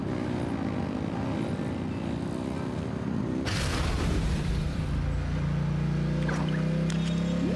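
A boat engine revving in the video game Genshin Impact, a loud swelling mechanical roar that surges abruptly midway and settles into a heavy, sustained drone with splashing texture, alone without talk.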